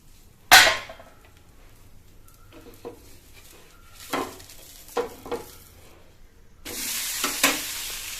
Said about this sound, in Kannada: ದೋಸೆ ಹಾಕ್ತಾ ಇದ್ದೀನಿ